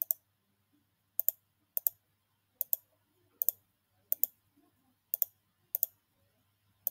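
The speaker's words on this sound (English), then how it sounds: "So I'm just clicking on the mouse at different points." A computer mouse clicks sharply and close up, single and double clicks spaced about a second apart over a quiet background with no talking.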